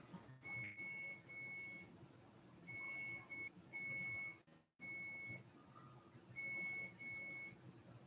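High electronic beeps sound in short repeated pairs over a faint background hum, with brief pauses between bursts.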